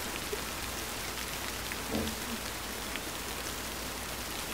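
Steady, even rainfall in a horror video game, a constant wash of falling drops with no voices heard.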